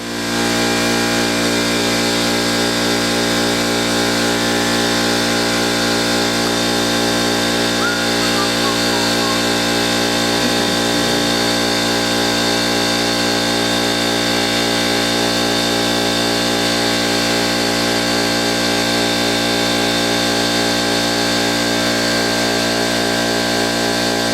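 An air compressor runs in a garage during a cafe racer motorcycle build, giving a loud, steady motorized drone with a layered whine that holds constant throughout.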